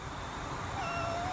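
A domestic cat meows once, a short rising-then-falling cry heard fairly close over a steady background hiss.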